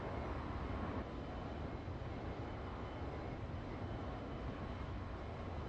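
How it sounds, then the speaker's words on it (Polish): An airplane engine drones after takeoff in the flight simulator X-Plane 11, a steady, even roar holding at one level throughout with no talk. "Samolot sobie ładnie wystartował."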